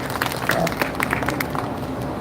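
Rally audience applauding, a continuous wash of many hands clapping at a steady level, crowded and fairly loud, with no speech over it.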